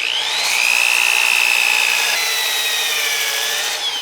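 A hand drill runs against spinning turned wood on a lathe slowed to about 500 RPM, sanding a utility box; a loud, continuous whine shifts in pitch as the drill is worked back and forth.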